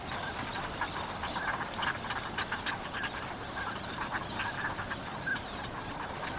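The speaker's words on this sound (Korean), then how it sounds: "낮 동안 새들은 평소와 다름없이 헤엄을 치고 목욕을 하면서 휴식을 취한다." Migratory water birds swimming and bathing around Bamseom island in the Han River, with a dense chorus of close quacking and honking calls over continuous splashing throughout, no talk.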